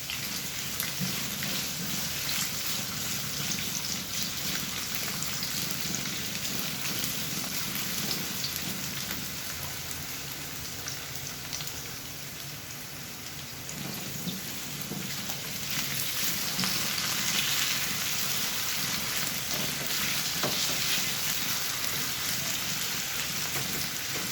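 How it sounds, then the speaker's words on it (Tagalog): Sliced potatoes and carrots fry lightly in hot oil, giving a steady, dense crackling sizzle that runs unbroken for the whole stretch, with no voices over it. "iprito lang natin ang bahagya, yung ating hiniwang patatas at carrots"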